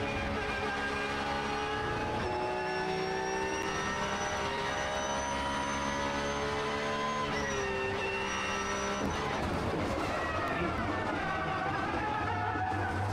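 A GT race car at the Mandalika circuit, its engine droning loud and close with a steady tonal note that shifts and drops near the end as the car brakes into a corner; no talking.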